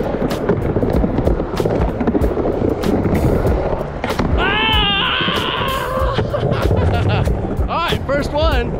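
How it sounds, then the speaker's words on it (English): Skateboard wheels roll and a truck grinds along the coping of a mini ramp, a steady rough scraping under outdoor noise, with brief shouts and squealing sounds breaking in midway. "First one, grind right there."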